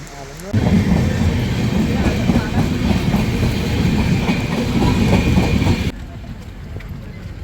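A train rumbles along steadily with rhythmic clattering and loud broadband noise, then the roar drops abruptly near the end.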